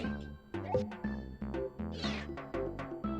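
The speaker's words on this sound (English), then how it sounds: "Got any more meows?" A cat gives a run of short meows, each with a bright pitched tone that bends up or down. The calls come close together and sound close and fairly loud.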